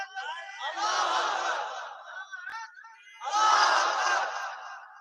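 A large crowd at a sermon shouts the takbir, Allahu Akbar, in two long, loud, unified roars separated by a short pause.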